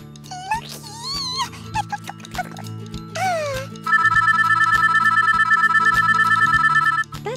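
A toy phone rings with a rapid electronic trill after chirpy toy sound effects and steady rhythmic clicking, loud and close.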